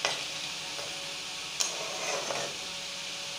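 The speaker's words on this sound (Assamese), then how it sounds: "এতিয়া ইয়াতে মই অকণমান পানী এড কৰিম" Water added to a hot pan of cooking turmeric, hissing and sizzling steadily with a few sharper crackles and pops, close and moderately loud, with no talking.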